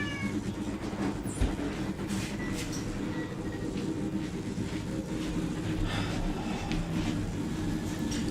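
A cat in Bioshock 2 Minerva's Den meows a few times, faint and scattered, over a dense, constant rumbling game ambience.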